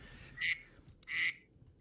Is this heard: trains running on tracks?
no